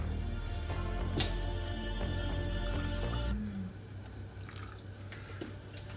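Water is poured into a simmering moussaka sauce with fresh lemon juice, making a steady trickling, splashing pour that stops after about three seconds and leaves quiet kitchen background.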